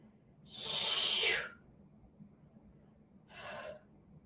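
Two heavy breaths during a runners' strength workout, a long forceful exhale followed after a pause by a shorter one, close and breathy with no talking.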